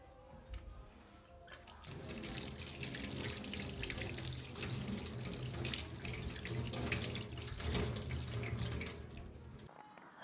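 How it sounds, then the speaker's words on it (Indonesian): Tap water runs steadily into a sink while hands are washed with soap, a continuous splashing flow with small drips, close and fairly loud, with no talking. "Sebelum melakukan pengamatan, cuci tanganlah terlebih dahulu menggunakan sabun."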